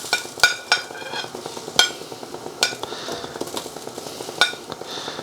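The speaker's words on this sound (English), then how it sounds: "Gonna put in our carrots, and I'm gonna put the baby sweet corn." Carrots and baby sweet corn tumble into a cooking pot for chicken noodle soup, giving sharp clinks and knocks at irregular intervals over a soft sizzling, stirring background.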